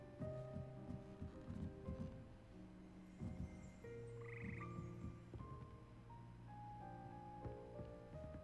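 A chorus of frogs croaks steadily and fairly close in a Hogwarts Legacy castle room, with overlapping low and mid-pitched calls repeating under a soft music bed, no talking.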